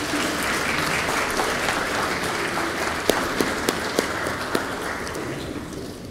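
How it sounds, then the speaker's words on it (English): Church congregation clapping in a steady round of applause during a Sunday Mass, sustained and fairly loud throughout with a few sharper claps standing out near the end. "Let's give them all a round of applause"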